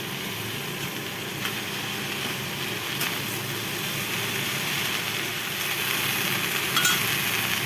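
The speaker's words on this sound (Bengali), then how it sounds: "এবার দিয়ে দিচ্ছি লাউ পাতা।" Ground bottle gourd leaf paste, thinned with water, frying in a pan, giving a soft, steady sizzle with a few faint clinks of stirring.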